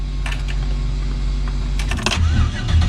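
A turbocharged 5.3 LS V8 running a Holley Terminator X setup cranks and fires up close by, its loud steady low rumble overlaid with a few clicks and clatters.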